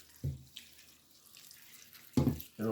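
Water from a tap runs into a cooking pot in a home kitchen in two short bursts with a quiet gap between them, close and fairly soft.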